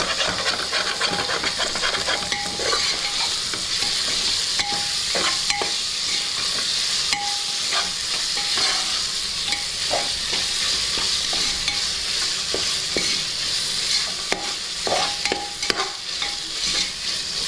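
Tomatoes sautéing in a pan for ghee rice, a steady close sizzle with frequent metallic scrapes and clinks of a spoon stirring throughout, no voices.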